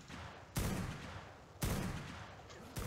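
Gunfire in the ARK survival game as a player shoots at a Pteranodon, three loud, sharp shots with booming tails spaced about a second apart, with no talking.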